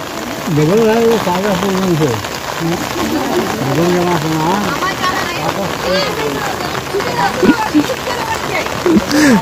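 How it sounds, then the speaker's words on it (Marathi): Steady monsoon rain patters down throughout on paddy fields during rice transplanting in Konkan, with people talking continuously over it. "पाऊस पडतायत त्यामुळे सगळ्यांना गार फिलिंग होते"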